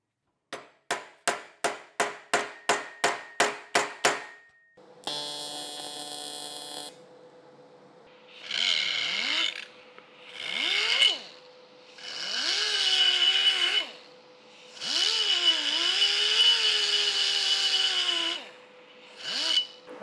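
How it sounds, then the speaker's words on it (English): A steel bracket is welded in an engine bay. A quick series of sharp electronic pulses is followed by a steady tone, then several loud, crackling buzzes of a few seconds each, separated by short silences. "So Let's just strengthen it and put a little weld on the end."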